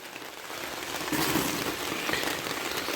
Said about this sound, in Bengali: আর কি জোরে বৃষ্টি নেমেছে দেখুন।